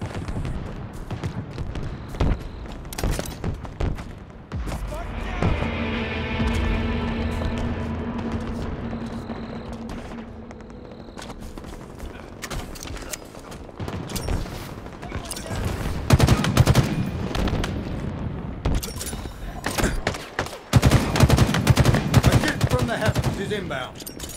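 Rapid automatic gunfire and scattered single shots in a Halo Infinite battle, dense bursts rattling on and off across the whole stretch, with heavier close volleys near the end and a brief radio-style voice callout.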